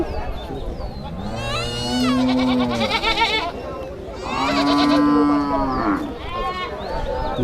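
Goats at a traditional rural village livestock market give two long, loud, close calls, with people talking amid the crowd murmur of the market.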